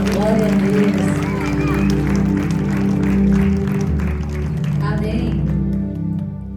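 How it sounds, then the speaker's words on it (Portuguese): A church congregation applauds during a healing worship service. Sustained clapping blends with music and voices, and it fades out near the end. "Aplauda ao Senhor."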